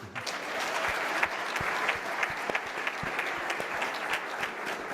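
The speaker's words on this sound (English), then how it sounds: "Applaudissez-le." An audience applauds a minister at a public dialogue event, steady dense clapping from a sizable crowd with a few sharper individual claps standing out, no talk over it.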